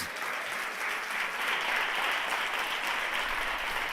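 A church congregation applauds during a celebration service, a steady, dense wash of clapping from many hands that holds evenly for the whole stretch with no voices on top.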